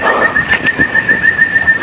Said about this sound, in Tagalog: Ibon.